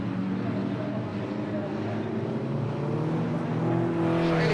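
Old banger racing cars circle an Ipswich track in pairs, engines droning and rising in a steady, loud roar, with a commentator talking over the noise.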